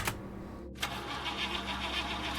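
A car engine in the horror game Last Guest cranks and fails to catch: a short starter burst, a brief gap, then a second grinding crank that sputters on without firing, close and mechanical.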